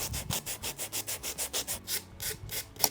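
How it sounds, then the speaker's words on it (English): Steady back-and-forth sanding strokes, about a dozen evenly spaced rasping rubs on a small wooden object, close and fairly loud, with no talking. "I want to try sanding it down a little bit because there's a lot of texture"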